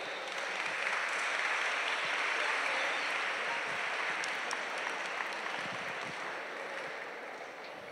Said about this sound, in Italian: Facciamo un applauso ai nostri tre primi relatori.